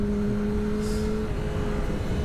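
Motorcycles from a riding school pass by on the road, a steady engine drone heard from a rider's perspective on a Yamaha R6, with continuous wind and motor noise and no talking.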